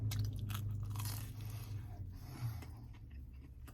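Someone bites and chews pizza crust close to the mic, giving a loud crunch followed by steady mouth chewing with scraping crackles, and no talking.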